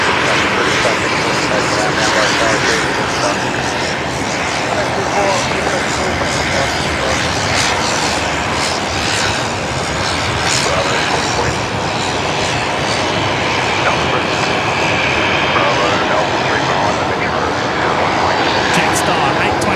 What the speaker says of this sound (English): Jetstar 822, next arrival here on runway 19 left.